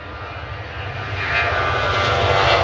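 A 17-year-old Boeing 737-800's engines roar and swell as it takes off from Manchester Airport, a broad rushing noise building louder over a few seconds, heard from some distance.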